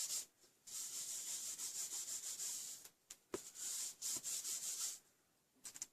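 An embossing buddy powder pouch rubs over cardstock for a birthday card, making soft, close, brushing swipes in several short bursts with brief pauses between them. No voices.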